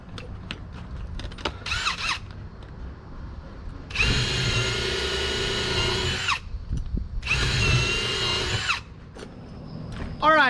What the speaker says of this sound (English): This drill bit is absolutely perfect.